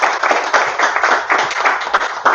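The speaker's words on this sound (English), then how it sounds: "Let's give him a big round of applause." An audience at a golf-themed business training event applauds in a dense, steady burst of hand claps that fills the whole stretch. There is no talking over it.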